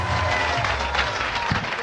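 A studio audience at a comedy show claps steadily for the host, a dense, even burst of applause filling the whole short stretch with no speech over it.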